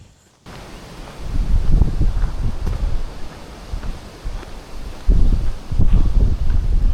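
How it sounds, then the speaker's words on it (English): Strong gusting wind buffets the microphone on an open field-edge path of the South Downs, rumbling low and loud in uneven surges that swell again toward the end, with no voices. "the wind is very, very much a feature of today's weather as well"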